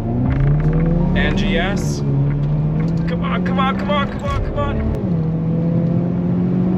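A 2022 Hyundai Kona N engine holds a loud, close, steady rev on launch control, pitch dipping and climbing slightly before the start, while a person talks over it.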